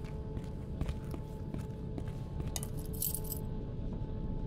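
Metal keys picked up inside an abandoned steel mill in the video game INFRA, a faint brief jingle and clink over a steady low ambient hum, with a brighter metallic rattle near the end.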